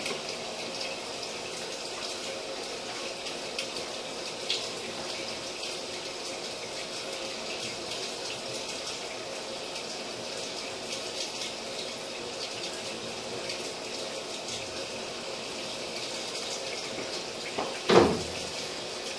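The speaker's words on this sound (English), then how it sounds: "we're running water from the kitchen sink" Steady, low hiss of water running from a kitchen sink during a sewer scope inspection continues throughout with no talking, ending in a brief louder clunk near the end.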